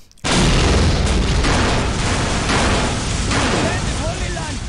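A loud explosion in the video game Postal 2 bursts in suddenly after near silence, then a dense roaring blast and rumble holds for several seconds before slowly thinning.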